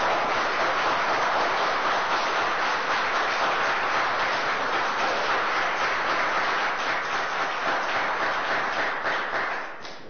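Sustained applause and clapping fill a council chamber gallery, a dense, steady wash of many hands that carries on for several seconds before tapering off at the end.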